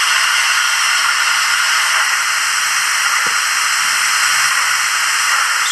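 A model steam locomotive's sound system plays a steam valve blowing off, a loud, continuous broadband hiss that holds steady from start to finish with no other sounds standing out.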